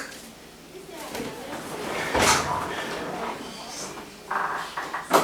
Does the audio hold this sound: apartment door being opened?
yes